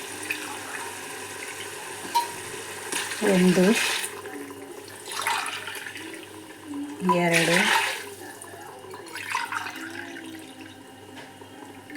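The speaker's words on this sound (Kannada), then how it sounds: "ಒಟ್ಟಿಗೆ 3 ಗ್ಲಾಸು ನೀರು ಹಾಕ್ತಾಯಿದ್ದೀನಿ" Three glasses of water poured into rice for egg hari biryani, two splashing pours a few seconds apart, close and moderately loud, with someone talking between them.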